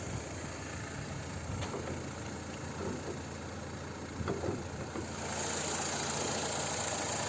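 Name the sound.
BMW 318 car engine idling under the hood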